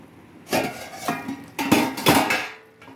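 Rice being stirred into boiling water in a cooking pot, then a lid set on top: a handful of separate metallic clanks and scrapes of utensil and lid against the pot, close and fairly loud, with quiet gaps between them.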